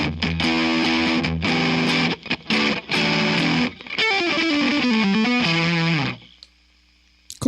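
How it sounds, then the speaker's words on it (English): An electric guitar played through a Joyo Ironman distortion pedal rings out loud and crunchy, with strummed chords, a few choppy stabs, then a descending run before cutting to near silence. "it goes really nice for some like good crunchier sort of sound. More like a distortion."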